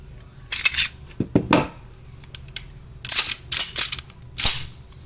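A stainless steel 1911 pistol being cleared: a few crisp metallic clacks and snaps of the slide and action, in two short clusters, close and fairly loud against a quiet room.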